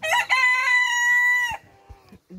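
A small hen lets out one long, loud drawn-out crow-like call close up, followed by a few faint clucks and quiet rustling.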